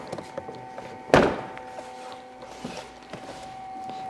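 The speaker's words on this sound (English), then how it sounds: "Make sure we latch our panel back up" A side panel latched shut on a liquid-cooled snowmobile during a pre-ride check gives one sharp, close thunk, followed by quiet rustling and faint handling noises.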